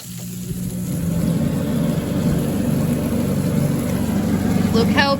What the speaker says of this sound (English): Better turn on the exhaust fan again.